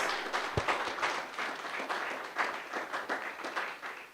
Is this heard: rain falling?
no